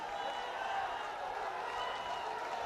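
A football stadium crowd at a Bangladesh versus Sri Lanka SAFF Championship 2021 match roars and applauds in a steady, distant wash of cheering, with commentary talk faintly under it.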